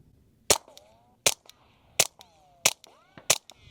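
Five sharp, evenly spaced cracks from a suppressed .22 handgun firing standard-velocity Federal rounds at 1,240 fps, each followed by a short ringing metallic tail, fairly quiet and outdoors.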